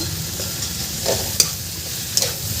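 Fenugreek leaves being stirred into a sizzling masala in a pan, a constant frying hiss with soft scraping strokes and a couple of faint clinks, close and without speech.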